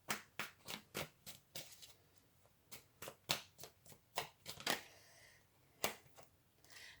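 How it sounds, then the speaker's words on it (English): Tarot cards shuffled by hand in a quiet room, a series of crisp riffling bursts and soft snaps in an uneven rhythm, close and faint. "The next card we have out here is the Page of Wands"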